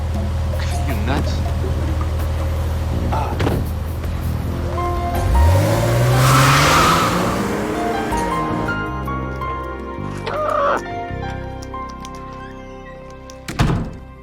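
A car engine revs and accelerates loudly during a drive, its pitch sweeping upward before easing off, with a sharp thunk partway through and another near the end; voices talk over the engine.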